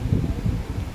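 Wind gusting in rainy weather, a steady low rumbling buffet on the microphone with rustling, continuous and fairly close, without talk.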